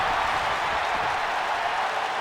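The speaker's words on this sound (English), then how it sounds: "Crowd here in Canada is loving this one." A steady, dense crowd roar and applause from a Canadian arena audience at a WWE 2K wrestling match in the video game, holding at an even level throughout with no voices standing out.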